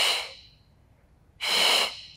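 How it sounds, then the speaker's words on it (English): Two strong breath exhalations during a Pilates lower-back exercise, a short one at the start and a longer, louder one after a pause, heard close and alone without speech. "We exhale."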